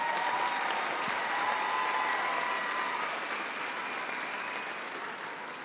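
Sustained audience applause fills a graduation ceremony for Crockett Early College High School, a dense, steady wash of clapping from a large crowd that holds loud throughout and eases off only slightly toward the end.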